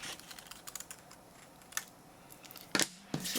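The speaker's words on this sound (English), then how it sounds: "just going to do a quick cut around the edges of it." Scissors cutting around the edges of a stamped paper sentiment, a series of quick close snips and paper rustles with no talk.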